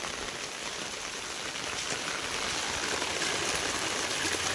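Rain falls steadily in a dense, even hiss of drops on surfaces, moderately loud and unbroken throughout with no voices.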